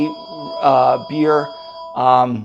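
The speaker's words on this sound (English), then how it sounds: "sorry about the phone ringing" A telephone rings in a room during a beer tasting at the ZoiglHaus Brewing Company in Oregon, its steady tone running beneath a man's speech and sounding in two or three short bursts.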